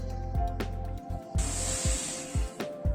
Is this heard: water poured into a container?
yes